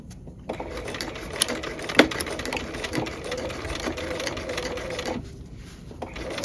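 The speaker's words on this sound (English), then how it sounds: "We're edge stitching through all the layers" A sewing machine edge stitching through multiple fabric layers, a steady fast mechanical whirr and clatter running nearly nonstop, close, with brief pauses and slight changes in speed.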